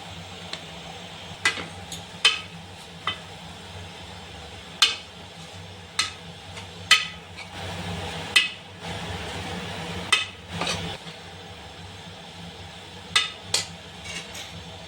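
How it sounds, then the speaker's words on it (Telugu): A coconut mixture for a banana flower fry being stirred in a pressure cooker, with sharp intermittent spoon clinks and scrapes against the metal over a low steady background hum. "ఇప్పుడు ఈ కొబ్బరి మిశ్రమాన్ని ఈ కుక్కర్లో వేసి బాగా కలపాలి"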